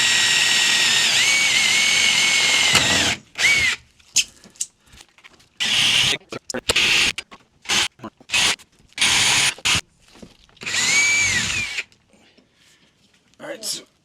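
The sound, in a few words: power drill pre-drilling holes in van roof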